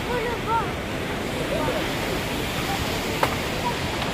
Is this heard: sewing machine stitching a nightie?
no